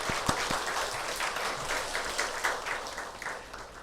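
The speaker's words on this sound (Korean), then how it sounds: "자, 박수 한번 해주실까요?" A church congregation at a Sunday worship service claps together in warm, moderately loud applause, a few distinct sharp claps at the start before it blends into steady clapping that slowly thins out.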